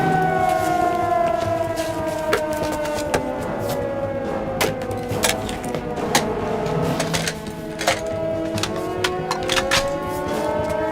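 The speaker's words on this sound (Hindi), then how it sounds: "सायरन बज गया" A wailing siren from a dubbed Hollywood action movie rises and falls in long sweeping tones, accompanied by sharp clicking and clattering sounds, with no voices.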